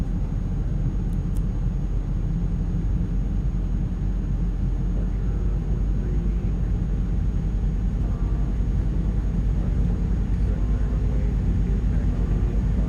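Jet engine spooling up on an iniBuilds A300 in Microsoft Flight Simulator 2024, a continuous deep rumbling roar that holds steady throughout, with a voice talking over it at times.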